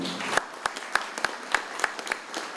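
A few scattered hand claps from a small audience at an eco forum panel welcoming a deputy minister, sparse and uneven, with light background murmur in a hall.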